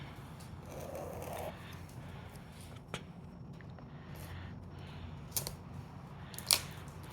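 Plastic shrink wrap is cut and peeled off a HeroQuest board game box on an outdoor porch, giving soft crinkling and rustling with a few short snips and clicks over steady low background hum.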